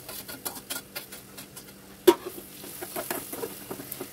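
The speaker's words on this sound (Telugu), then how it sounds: "ఇప్పుడు మామిడికాయ తురుము వేసుకోండి." Grated raw mango is stirred into a hot frying tempering for mango rice, with light irregular scraping and tapping strokes over a soft sizzle, close by and without talk.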